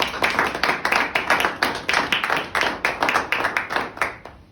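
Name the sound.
audience applause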